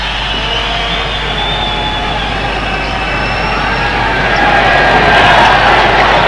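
A basketball arena crowd at a 1985 Kings vs Bulls game roars in a sustained wall of cheering and applause, rising louder toward the end as the noise swells.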